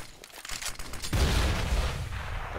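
AK rifle fire in the shooter game CS:GO bursts out suddenly after a quieter stretch, a loud, dense volley of rapid shots that keeps rolling to the end.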